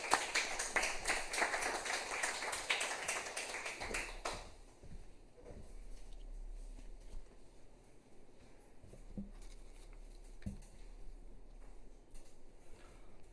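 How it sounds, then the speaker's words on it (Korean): Dense applause from a church audience at a Wednesday worship service, loud and busy for about four seconds before fading into quiet room tone with a few scattered taps. "박수로 모시도록 하겠습니다"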